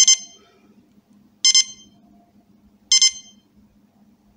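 A Sharp SPC100D silver digital dual alarm clock sounds its alarm in short, loud, sharp beep bursts repeating about every one and a half seconds, with a faint low hum between them.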